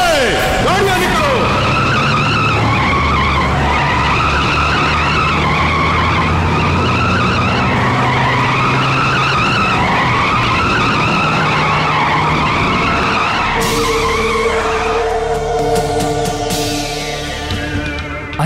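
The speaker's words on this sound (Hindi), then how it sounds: "ए, गाड़ियां निकलो।" Cars pulling out with tires skidding and squealing, engines revving loudly through a sustained stretch of tire screech, ending in sharper bursts of squeals; a dramatic film scene with speech mixed in.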